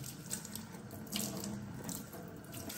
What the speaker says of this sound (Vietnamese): rửa tay xà bông